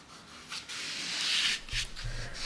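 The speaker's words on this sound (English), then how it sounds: "It's now time to scrape." Rasping scrape of a tool stripping old finish from a 1940s Art Deco wooden sideboard, in a few broad close strokes, with a low thud near the end.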